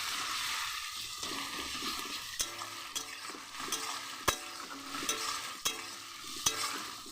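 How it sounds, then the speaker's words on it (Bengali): Onions, with salt and garlic added, fry in a pan for a home-style chicken curry, a soft steady sizzle broken by regular clinks and scrapes of stirring. "পেঁয়াজটা লাল লাল করে ভাজা গেছে।"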